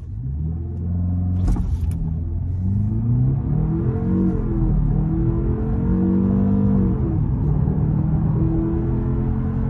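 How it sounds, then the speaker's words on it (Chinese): 2024 BMW 520i with a 2.0T engine, 48-volt mild hybrid and 8-speed transmission launching from 0 to 100 km/h, a brief click, then an engine roar climbing in pitch through several gear shifts, heard from the cabin. "下面先测下百公里加速。"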